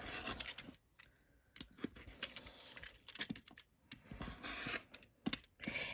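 Rotary or scissor cutting through fabric pieces for a churn dash quilt block, heard as a series of close, crisp slicing and clicking bursts with brief pauses between them, no talk.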